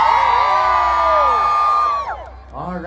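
A large concert crowd of fans at an outdoor show at Prambanan, Yogyakarta, screams and cheers loudly and continuously, a dense sustained roar of high-pitched shrieks that dips briefly near the end before swelling again.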